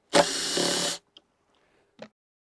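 A power drill bores a hole out to M6.5 in a foil mast, one loud burst of about a second, then two tiny clicks of tool handling.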